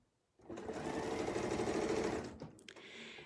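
A quilting sewing machine stitches concentric circles in a quilt with a steady, close, rapid mechanical whir that runs for about two seconds, then slows and stops with a few small clicks.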